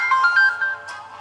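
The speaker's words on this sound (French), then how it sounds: "Ah, voilà, ça c'est mon téléphone." A Cubot X6 mobile phone playing its ringtone, a close, loud melodic tone sequence of several notes ending on a brighter chime.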